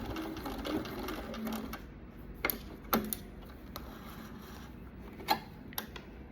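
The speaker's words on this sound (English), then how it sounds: "we're going to stitch on to the end of our pocket. And then I'm going to back stitch again." Sewing machine stitching along the fold of a pocket, a quiet steady mechanical whir broken by a few sharp clicks and knocks, close and alone without talk.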